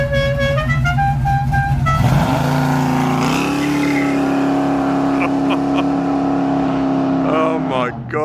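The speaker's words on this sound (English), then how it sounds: "You've got the horns, you got the CB radio inside, and woo, that is a loud car." A 1969 Dodge Charger General Lee replica engine revs loudly and then settles into a steady, heavy roar, close by, with a horn-like tone at the start and end.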